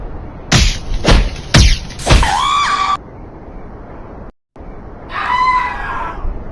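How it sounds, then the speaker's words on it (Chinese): Cartoonish teacher character from the Mini World video game screaming in several sharp bursts, then a longer wailing cry, a brief silence, and a second wavering scream, loud and close with no talk. "这是老师的惨叫声。"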